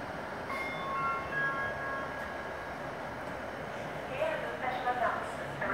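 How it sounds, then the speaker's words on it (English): A train moves through the newly reopened Poulton station on the line to Preston, a steady low rumble with faint squeals, heard at moderate distance amid station ambience and some background voices. "possibly the first train back to Preston"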